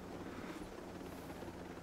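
Steady rotor drone of a small helicopter in the video game Ghost Recon Breakpoint, heard as a faint, continuous whir with a windy, rushing texture and no voices.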